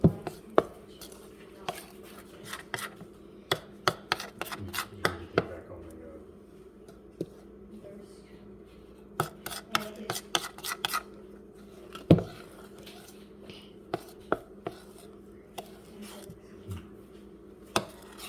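Vanilla cake batter stirred by hand in a bowl, with sharp, irregular knocks and scrapes of the utensil against the bowl in bursts, moderately close and fairly quiet, with pauses between.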